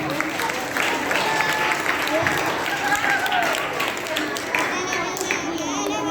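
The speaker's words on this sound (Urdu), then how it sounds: "تالی بجائے گا۔" Congregation applauding inside St. John Catholic Church during a golden jubilee celebration for a priest, a steady dense wash of hand claps sustained throughout with a murmur of voices mixed in.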